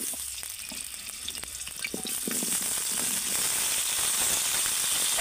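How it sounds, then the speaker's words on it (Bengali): Potatoes fry in mustard oil in a wok, a dense, even sizzle that grows slightly louder and steadier over time, with faint crackles and light stirring taps at first. "প্রথমে আমি আলুগুলোকে ভালো করে ভেজে নেব।"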